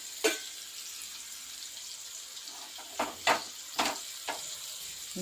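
Soft continuous sizzle of mackerel frying in a pan, punctuated by several sharp scraping clinks of a spatula, close and without talking.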